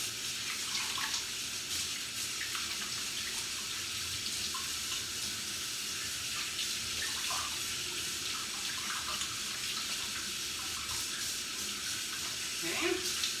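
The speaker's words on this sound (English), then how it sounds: "Now let me wash my hands." Water runs steadily from a tap into a sink as hands are washed, a continuous close hiss that holds at an even level throughout.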